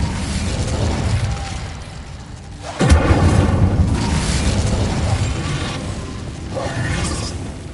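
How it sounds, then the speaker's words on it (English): A fire spell bursts with a sudden loud whooshing boom in Hogwarts Legacy, followed by a sustained roaring crackle of flame that fades slowly, with faint game ambience around it. "Incendio."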